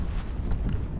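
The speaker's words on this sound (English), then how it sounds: "It's windy, but it's coming in off the land" Wind blowing steadily across a microphone on the coast, a loud continuous buffeting rumble with no other sounds standing out.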